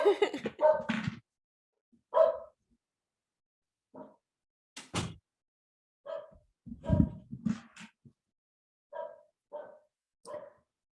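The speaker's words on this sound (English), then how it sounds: "my dog is barking because my husband's home" A dog barks repeatedly in short separate bursts, some sharp and some softer, spaced across quiet gaps, fairly close by.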